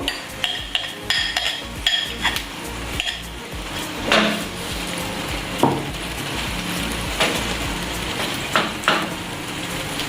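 A potato omelette mixture fries in a pan with a steady close sizzle, joined by scattered clinks and scrapes of a utensil against the pan and a few sharper knocks.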